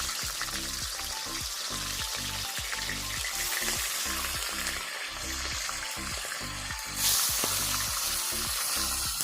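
Rohu fish pieces rubbed with salt and turmeric fry in hot oil in a wok, giving a continuous soft sizzle and crackle with a low, steady rhythmic rumble underneath and no talking.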